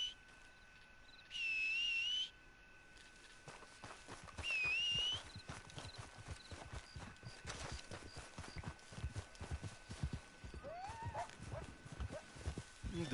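A horse in a video game trots with a steady clip-clop of hooves, close and moderately loud, after two bright whistle tones near the start.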